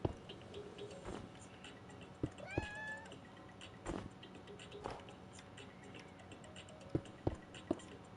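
A cat meows in a Minecraft game, a short rising-falling call standing out over quiet clicks and background game sounds.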